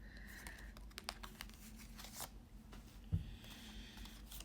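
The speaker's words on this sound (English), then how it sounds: "Let me pull one more tea leaf card for you guys." A tea leaf card is drawn from a deck in a quiet room, with faint crinkling, shuffling and small paper taps scattered close by.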